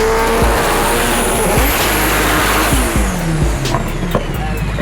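A drag race car does a burnout before a launch, its engine roaring loudly and close with a continuous squeal of spinning tires throughout, ending with brief hisses.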